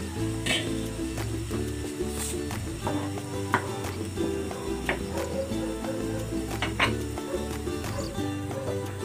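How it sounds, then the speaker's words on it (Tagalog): A pot bubbles and simmers steadily at close range, with a continuous low rumbling hiss and occasional small clinks. "Ayan, kumukulo na."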